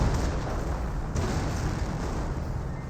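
Anti-tank guns on high ground fire shots in a Company of Heroes battle, heard as heavy booming reports with a loud, rumbling low-end wash of battle noise throughout.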